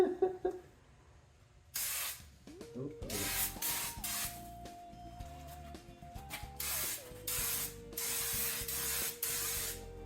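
A spray paint gun blasts paint over the engine bay floor of a Subaru GC8 in loud bursts of hissing spray, with pauses between them and some mechanical clicking.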